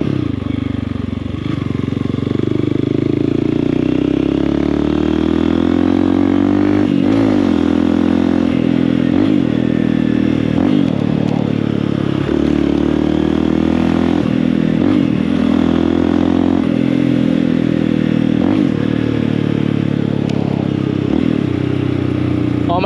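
A motorcycle on the road downshifts repeatedly, its loud close engine dropping and rising in pitch with each gear change as engine braking slows it, over steady wind rumble.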